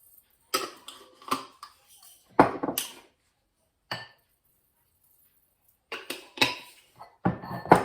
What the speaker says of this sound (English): grind up these spices, the coriander seeds and the cumin seeds